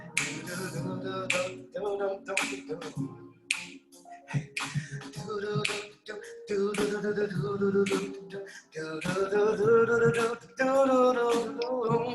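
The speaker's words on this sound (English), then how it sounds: "Snap your fingers." Finger snapping during a neo-soul and yoga session: sharp, regular snaps set against music with singing, continuing steadily and close by throughout.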